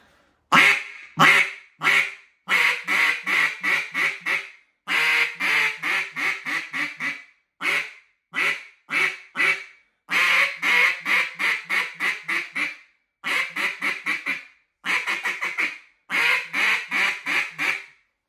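A J.J. Lares Hybrid duck call blown in its high range, loud close quacking in rapid descending series of several notes each, repeated in bursts with brief pauses between them, no talking.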